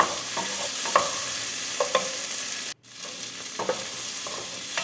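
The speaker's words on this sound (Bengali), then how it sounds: "এবার এগুলোকে একসাথে একটু নাড়াচাড়া করে নিয়ে" Mixed vegetables with frozen peas being stirred in a hot pan, a steady close sizzle with scattered scraping strokes of the spoon and a brief break midway, no voices.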